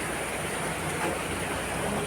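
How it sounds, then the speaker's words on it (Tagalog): Steady rain falls outside a balcony late at night, a soft continuous hiss with no distinct drops or breaks, fairly faint and even throughout. "It's raining outside."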